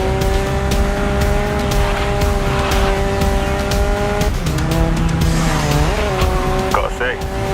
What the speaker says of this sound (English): Best to keep traction than drift it.